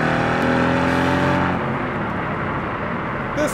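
A 2020 Aston Martin Vantage AMR Hero Edition, a rear-wheel-drive sports car, accelerates hard, its engine note a loud, steady roar from inside the car that holds throughout with no talk over it.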